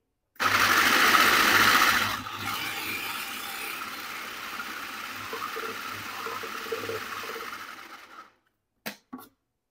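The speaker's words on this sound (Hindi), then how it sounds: "इसलिए हल्का सा चॉपर चलाएंगे।" An electric food chopper mincing chicken for shami kebabs, whirring loudly for about two seconds and then running in a steadier, lower hum for several more before stopping, followed by two brief clicks.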